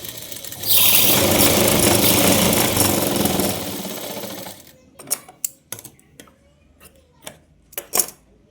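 A sewing machine stitches a blouse with a fast, continuous mechanical whirr for about four seconds, followed by a string of sharp clicks and taps as the fabric is handled.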